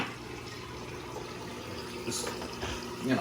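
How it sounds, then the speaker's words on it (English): Water is siphoned out of a cloudy saltwater aquarium, a steady close gushing and trickling rush that runs throughout with slight swells and a faint gurgle at the end. "Now we're going to siphon the water out with this,"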